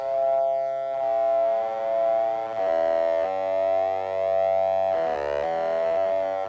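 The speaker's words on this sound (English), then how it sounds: "something that I found sounded like a bit like ring modulation" Synthesizer patch on the K with a metallic, ring-modulation-like timbre, sustaining a bright wavering tone that shifts pitch in several sliding steps, steady and alone.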